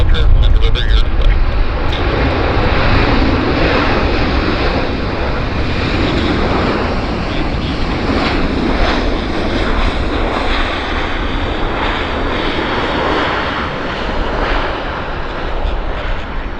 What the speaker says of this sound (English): We have an Air Canada Heavy on the departure.